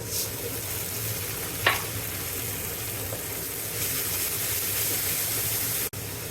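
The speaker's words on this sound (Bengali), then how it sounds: "এবার এর মধ্যে আদা, পেঁয়াজ, রসুন, কাঁচা লঙ্কা বাটাটা দিয়ে দিলাম" A paste of ginger, onion, garlic and green chilli sizzles in fried masala, giving a constant close hiss broken by one sharp scrape and a brief dip near the end.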